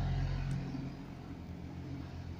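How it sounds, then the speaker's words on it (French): Low engine rumble of a tractor going past close by, steady and droning, with no voices. "On va laisser passer le tracteur quand même."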